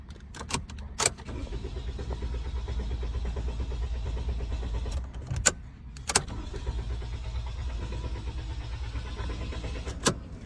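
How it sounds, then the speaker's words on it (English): A car engine cranks repeatedly without catching, a steady low starter churn running for several seconds, stopping, then resuming, with sharp clicks and clunks at the pauses. "This car won't start no matter what."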